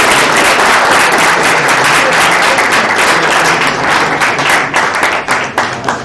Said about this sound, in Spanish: otro aplauso para nuestro